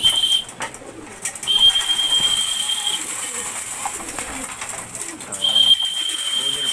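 Flyer pigeon hens come back into the loft, cooing softly at close range amid rustling and wing movement, while a person talks over them.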